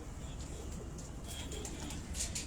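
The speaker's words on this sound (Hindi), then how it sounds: "ये बड़े कदों के कबूतर हैं मलक साहब, मैं देख रहा हूँ सारे।" Large pigeons in a fancier's loft in Dhok Kala Khan, Rawalpindi, coo softly and steadily beneath a constant rushing background noise, with no single call standing out clearly.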